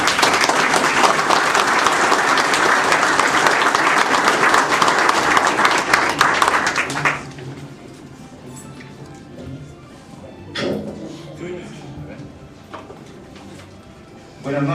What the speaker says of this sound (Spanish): Lo recibimos con fuertes aplausos,